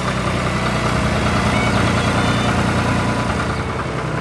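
A cartoon red truck hauling cabbages idles with a steady, loud low engine rumble that runs unbroken throughout, with no other sounds over it.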